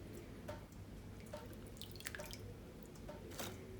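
Cut potatoes being rinsed in water for french fries, with faint drips, splashes and squishy handling sounds in a sink under a steady background hiss, no voices.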